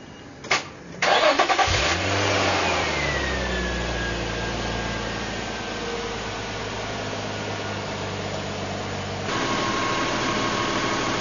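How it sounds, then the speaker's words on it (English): A first-generation Infiniti G35 cranks briefly, catches with a rising rev, then settles into a steady, close idle just after an oil and filter change, running evenly with a slight shift in tone near the end. "now I'm going to start the vehicle and monitor the oil light"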